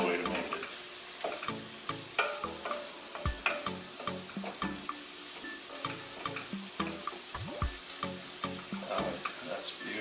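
Apples and onion sizzle and fry in a pan for a turkey curry, with repeated sharp scrapes and clacks of stirring over a constant hiss.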